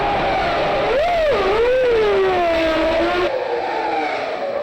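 A Formula 1 car at the 2000 Brazilian Grand Prix, loud, with a high engine whine that sweeps up and down in pitch as it passes and shifts gears, then fades into a steady drone.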